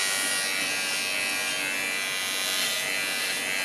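An electric dog hair clipper, a quiet model used for trimming a dog's face at home, runs with a steady, close, even buzz and no talk over it.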